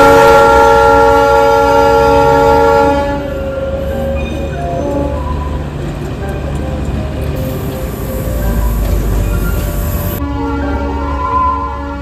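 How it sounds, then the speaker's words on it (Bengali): Darjeeling toy train on its winding mountain track: a loud, sustained horn blast opens, then a steady rumble of wheels and carriages rolls on close by, with a second tonal burst near the end. "পুরো রাস্তা দিয়ে কিন্তু টয় ট্রেন এমনি এঁকে বেঁকে চলছে"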